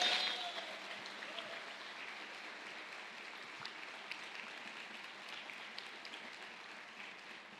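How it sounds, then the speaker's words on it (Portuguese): A church congregation applauding during a sermon, steady clapping throughout the hall that starts strongest and continues at a moderate, even level, heard from some distance. "Você pode aplaudir o Senhor por isso?"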